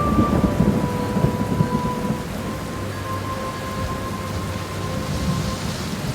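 A thunderstorm with heavy rain in a horror cartoon: steady dense rainfall hisses throughout with low rumbling thunder underneath and faint sustained tonal hums layered in the background.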